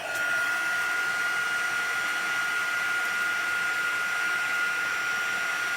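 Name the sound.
heat tool melting heat emboss powder on stamped image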